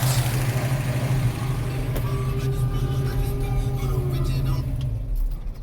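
A 1966 Ford Mustang engine idles steadily and close by with a low, even hum while its carburetor is adjusted, and a faint whine and a sharp click come through near the middle.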